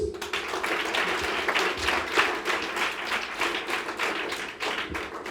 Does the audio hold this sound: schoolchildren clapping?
yes